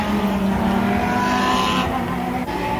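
Race cars, including a Lamborghini class, rumble and rev while warming up at the Watkins Glen racetrack, a loud continuous engine roar with pitch swells that eases off near the end.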